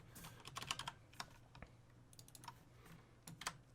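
Keys clack on a computer keyboard while code is written, with quick irregular bursts of close, crisp taps separated by brief pauses and no speech.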